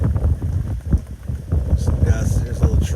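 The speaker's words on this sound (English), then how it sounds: "the wind's going to blow the phone out of my hand" Strong gusts from Hurricane Henri buffet the microphone outdoors beside a camper and a small tree, a loud, continuous rumbling roar that swells and dips unevenly across the clip.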